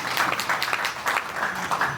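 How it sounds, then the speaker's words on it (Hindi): A seated audience at a spiritual talk gives a burst of applause, close and fairly loud, with uneven clusters of claps rising and falling across a couple of seconds. "एक बार जोरदार तालियां बजाएं"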